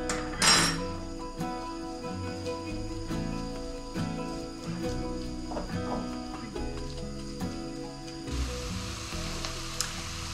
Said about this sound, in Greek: Το κρεμμύδι μας άρχισε να σοτάρεται